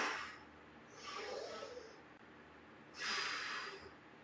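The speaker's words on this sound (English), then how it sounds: "Exhale on every rep" Forceful exhales during exercise reps, three breathy rushes of air spaced about a second apart, close and fairly loud.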